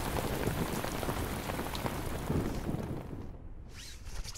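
Rain falls steadily on surfaces in a park, a dense close patter that continues throughout with no talking.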